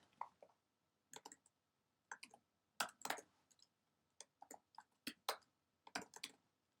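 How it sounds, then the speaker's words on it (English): Computer keyboard typing, close and quiet, in irregular bursts of sharp key clicks separated by short pauses, with no one speaking. "as I'm typing this out here"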